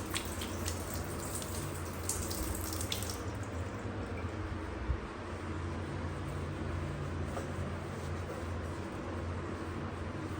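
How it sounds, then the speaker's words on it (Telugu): Water is poured and splashed to clean a kitchen in a new house, a faint steady wash of running water over ten seconds with a brighter trickle early on, no talking. "మళ్ళీ ఇంకోసారి కొంచెం నీళ్ళు పోసి క్లీన్ చేస్తాను."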